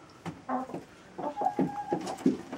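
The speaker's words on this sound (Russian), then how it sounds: "В гнезде, я вижу, сидят две адлеровских курочки" Adler silver laying hens sitting in a nest give soft, close clucks and short murmuring calls in irregular bursts, with no voices over them.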